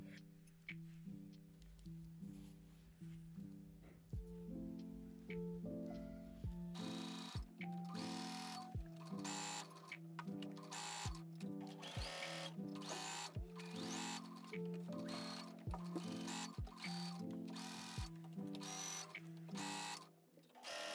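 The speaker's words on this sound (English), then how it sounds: "For the side seams, I use a zigzag stitch to allow better stretching." A sewing machine runs zigzag stitches along the side seams of a vintage square-neck dress, starting with a softer whir and then a close, loud, rapid buzzing punctuated by regular clacks, continuing alone with no talk.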